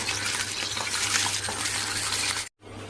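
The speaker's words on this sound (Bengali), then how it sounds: "আর এদিকে হচ্ছে মশলাটা কষিয়ে নিচ্ছি, মাছের ঝাল করব।" A spice paste for a Bengali fish curry is stir-fried in a pan. It gives a steady, close sizzle with a low hum underneath, broken by a brief gap near the end.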